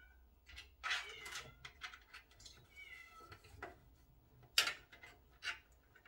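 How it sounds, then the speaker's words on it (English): A kitten named Maverick meows faintly in the background of a quiet room where a gaming PC is being built, a few short separate mews spread across the stretch, with soft handling noises between them. "kitten is actually meowing in the background"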